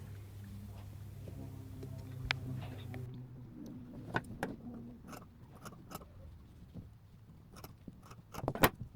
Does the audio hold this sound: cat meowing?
no